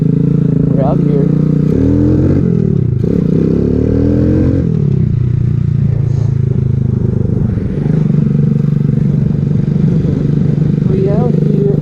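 Small off-road motorcycle, a Grom clone Vader Gen 2 with a PWK Powerjet 26mm carburetor, ridden on dirt. The engine hums steadily, rising and falling in pitch as the throttle changes, and a person talks over the ride.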